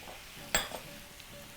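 Brown sauce poured into vegetables cooking in a pan for a Kenyan githeri, a short splash and clatter followed by a quiet, steady sizzle with faint utensil clinks.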